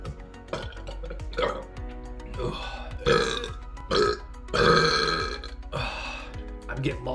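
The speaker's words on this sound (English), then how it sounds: "let's see if I can work up a couple more burps and send you guys off with those" A man burps deliberately in a burping contest, letting out several loud, drawn-out belches close up with brief gaps between them.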